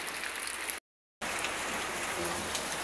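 Steady rain falls during a rainy Sunday with flooding in low-lying areas, a dense, continuous patter that cuts out briefly before resuming at the same level.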